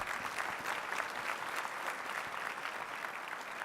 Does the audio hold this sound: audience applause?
yes